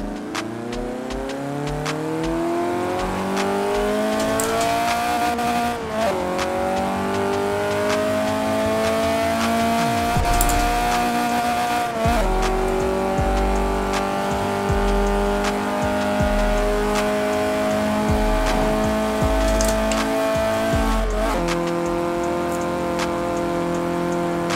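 A 1993 Renault Clio Williams in Forza Horizon 4 revs hard and climbs through the gears, its engine note rising then dropping at each shift, loud and close with no talk.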